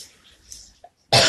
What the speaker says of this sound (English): And I still have a cough.